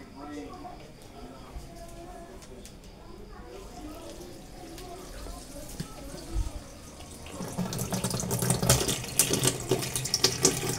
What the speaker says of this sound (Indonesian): kita isi air